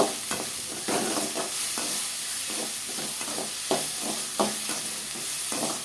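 Tomatoes and onions sauté in a pan for a bitter gourd kootu, a loud continuous sizzle broken by repeated spoon scrapes and stirs close by, with no voices.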